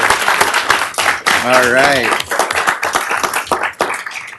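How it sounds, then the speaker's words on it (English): Applause at a city council meeting blends with loud overlapping voices and cheering close to the microphone, the clapping dense but partly masked by the chatter. "Let's give another round of applause."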